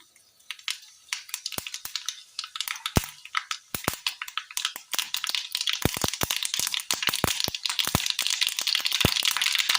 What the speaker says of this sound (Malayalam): ചൂടായ എണ്ണയിലേക്ക് കടുകിട്ട് കൊടുക്കാം